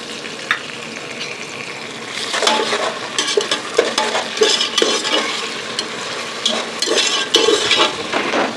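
Ginger garlic paste fries loudly in a pot for a Pakistani-style beef biryani, giving a dense, steady sizzle with scraping stirs and occasional clinks of a utensil against the metal.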